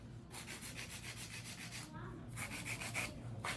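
An acrylic nail is filed with rapid, rhythmic rasping strokes, back-and-forth scraping in steady bursts with a short pause midway, close and fairly quiet.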